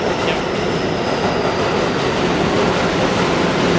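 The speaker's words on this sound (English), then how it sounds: "Train going back." A New York City subway train rumbles past close by, a loud, dense and continuous roar of wheels and cars that holds steady for the whole stretch.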